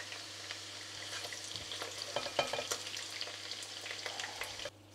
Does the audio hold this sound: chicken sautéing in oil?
yes